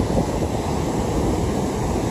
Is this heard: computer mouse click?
no